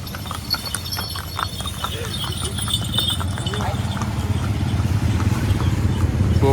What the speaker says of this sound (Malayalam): ഇത് കുതിരസവാരി ആയിട്ട് പോണ ആളുകൾ.